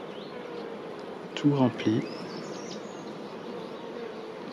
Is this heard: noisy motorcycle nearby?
no